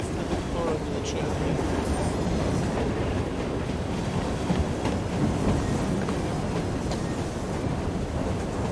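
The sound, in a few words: train moving in video game Assassin's Creed Syndicate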